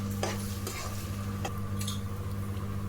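Onion paste fries alongside ginger and garlic in a pan, making a continuous close sizzle with a low hum underneath and a few brief scraping clicks from stirring.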